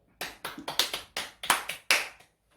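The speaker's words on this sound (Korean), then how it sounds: "박수" Short burst of hand clapping during a church service: about a dozen distinct, fairly close claps in an uneven rhythm, each ringing briefly in the room before stopping. No voices are heard.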